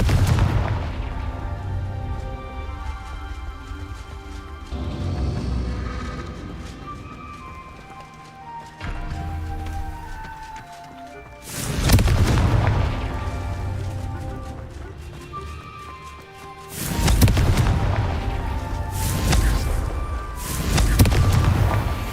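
Booming blasting-spell explosions in Hogwarts Legacy, loud bursts at about 12 and 17 seconds with a rumbling tail, set against game music and ambient sound.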